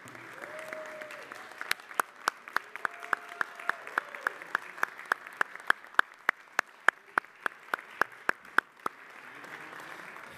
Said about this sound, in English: If we could have a round of applause for Yariv and Jeanette